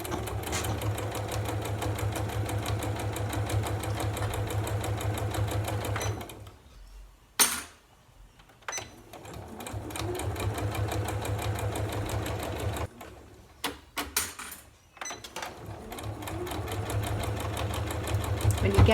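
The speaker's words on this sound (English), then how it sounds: "I'm just going to sew all the way round." A sewing machine hums and stitches steadily around a fabric storage caddy, running in long continuous stretches that briefly pause and restart, close by, with a voice talking over it at times.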